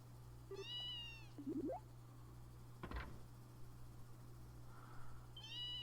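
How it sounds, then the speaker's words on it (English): A cat in the video game Trails in the Sky the 3rd gives a few short, clear meows spread across the clip, over a steady low game hum with a faint knock in the middle. "Aw, kitty. You're kidding me. A cat?"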